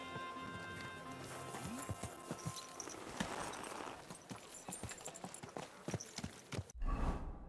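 Horse hooves clip-clopping in the Assassin's Creed video game, a fast rhythmic run of hoofbeats up close, mixed with game ambience before a sudden cut near the end.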